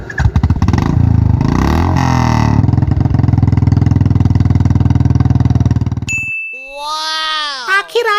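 A Royal Enfield Bullet motorcycle is self-started and its engine keeps running, a steady loud thumping idle that cuts off near the end, followed by voices.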